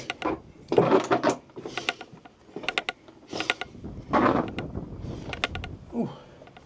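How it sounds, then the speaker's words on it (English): A backpack scrapes and scuffs against rock walls in a tight passage of Dinorwig slate quarry, with irregular close rubbing bursts amid footsteps and shuffling. "It's tight, you can hear my bag and stuff scraping."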